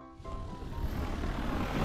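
A DJI T20 agricultural spraying drone passes overhead above a durian orchard, its loud propeller drone a steady broadband roar that swells slightly as it nears.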